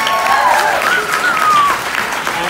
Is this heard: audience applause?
yes